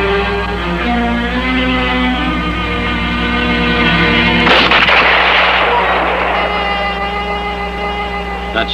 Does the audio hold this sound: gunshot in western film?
yes